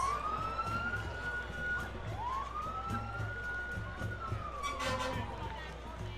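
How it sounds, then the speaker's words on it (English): A Cal Fire fire engine siren wails in a street parade, a loud rising and falling tone sweeping up and down over crowd noise and background voices throughout. "Here comes the fire engine from Cal Fire."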